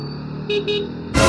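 A car horn honks in short bursts amid Philippine road traffic near Padre Garcia on a ride toward Tagaytay, loud and close, over steady engine and road noise, ending in a louder rush of passing traffic.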